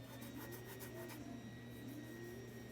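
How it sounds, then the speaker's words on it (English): A 3D printer runs in the background, its stepper motors producing a faint continuous whir with shifting tonal glides over a low hum, alongside soft rubbing noises and no speech. "my printer's going off in the background"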